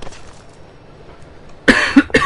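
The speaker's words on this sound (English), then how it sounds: "I apologize for the coughing." A person coughs several times near the mic, a cluster of sharp, harsh bursts at the end following quiet background noise.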